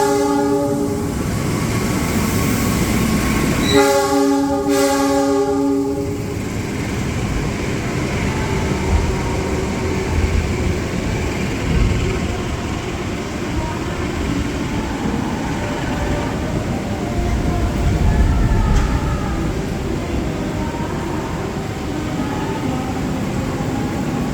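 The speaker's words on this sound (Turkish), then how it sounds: "şu anda bir tane tren geliyor" An intercity train from Jakarta in Indonesia rumbles past steadily for a long stretch, with a loud, sustained horn blast near the start, then continuous rolling clatter.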